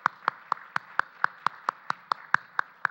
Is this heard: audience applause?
yes